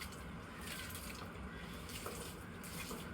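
Steady running water from a hose watering plants, pouring continuously, a constant wash of splashing with no talking.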